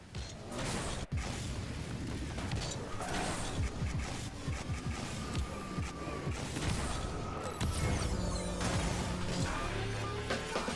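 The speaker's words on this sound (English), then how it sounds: "The big indicator that tells you you did it right is if your car does a flip noise as it pops off the wall" A Rocket League car pops off the wall with a flip noise, buried in dense, loud game sound of engine roar and clattering impacts that runs continuously without any talking.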